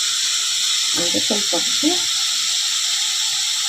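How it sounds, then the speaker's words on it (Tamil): Broad beans sautéing in a pan produce a steady, soft hiss throughout, while a voice speaks briefly over it. "இது நல்லா வதங்கட்டும்."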